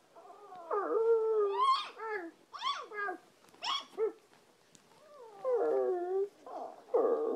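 A dog howls and yips in a series of rising and falling wails, some short and broken, others drawn out, close and clear with no talk.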